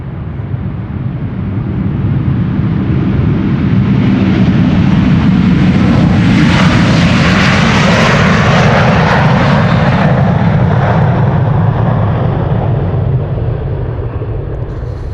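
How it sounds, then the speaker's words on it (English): Jet engines of a Delta Air Lines Airbus A330-300 spool up for departure at Amsterdam Schiphol, close and very loud, a sustained roar that swells to a broad peak midway and then eases slightly, with no voices. "Delta Airlines Flight 75 to Atlanta, Georgia, another A330-300"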